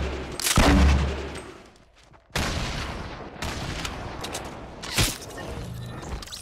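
Gunfire in Fortnite: a few sharp, loud shots ring out several seconds apart over a busy background of in-game noise and movement.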